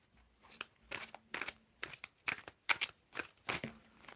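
Tarot cards are shuffled by hand in a series of quiet, crisp papery riffles, around nine short bursts in an even rhythm with brief pauses between them and no talking.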